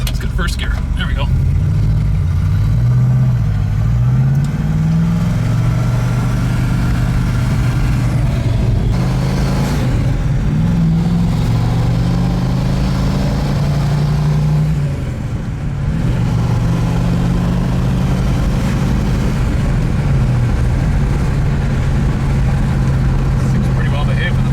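A 1969 Pontiac Firebird 400 pulls away in first gear on bias-ply tires, its V8 droning and rising in pitch through shifts, loud and close from inside the car.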